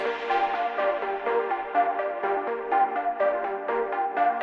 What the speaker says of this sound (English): I've automated the frequency modulation depth on the Diva patch here.